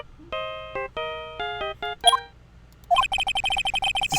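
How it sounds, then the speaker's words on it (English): A phone ringtone playing the Steel Samurai theme in the Phoenix Wright: Ace Attorney video game, a bright electronic melody of stepped notes followed by a rapid repeating ringing pattern, clear and alone with no talk. "Know that song your phone plays when it rings?"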